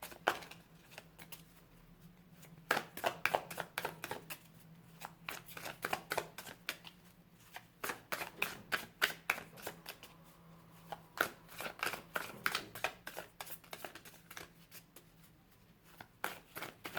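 Tarot cards being shuffled by hand in repeated quick riffling bursts, crisp papery flutters separated by short pauses, close but quiet over a faint low hum.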